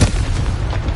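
A Confringo blasting spell explodes in Hogwarts Legacy, one loud close boom with a deep low thump that rumbles on briefly, no voices over it.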